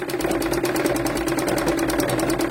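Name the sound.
sewing machine stitching a blouse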